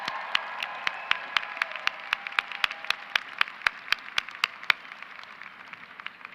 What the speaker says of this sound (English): How about a round of applause for the band?